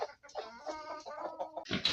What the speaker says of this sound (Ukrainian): А вони мені квокчуть всі дружно з півдесятка.